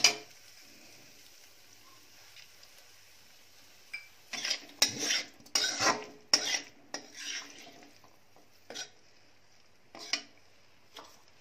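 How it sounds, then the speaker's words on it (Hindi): Metal spoon stirring lemon juice into a cooked vegetable sabzi in a pan, a run of sharp scraping and clinking strokes after a few quiet seconds, then a couple of isolated taps, close by with no talking. "नींबू निचोड़ के अच्छे से चलाएंगे ताकि नींबू सब्जी में मिक्स हो जाए"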